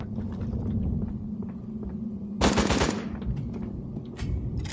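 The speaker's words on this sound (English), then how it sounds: "Now a 5-shot burst instead of a 3-shot burst, making it even harder to actually hit anything" An assault rifle in the video game Aliens: Colonial Marines fires one loud, close burst of several rapid shots amid game ambience and scattered footsteps.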